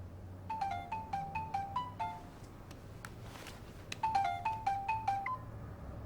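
A telephone rings in two bursts of rapid, warbling electronic trills separated by a short pause, moderately loud over a low background hum, with no talking.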